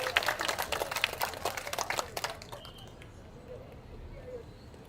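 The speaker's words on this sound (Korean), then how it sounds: "힘찬 박수로 모셔보도록 하겠습니다" Outdoor rally crowd at a construction workers' culture event in a station plaza, clapping briefly in a dense burst that fades out after about two seconds, leaving quiet street ambience.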